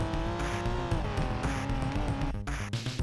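A 1990s Porsche 911 Turbo S in BeamNG with a damaged rear tire dragging, a loud, steady engine whine and scraping grind that carries on throughout and cuts briefly near the end.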